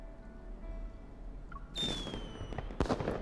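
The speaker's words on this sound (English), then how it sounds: "The night sky shines as New Year's fireworks bloom above the cityscape." New Year's fireworks bursting over a cityscape in the game Love and Deepspace, with a whistling rise followed by crackling bursts and sharp pops that grow louder partway through.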